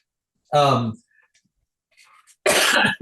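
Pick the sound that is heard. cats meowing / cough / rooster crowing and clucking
cough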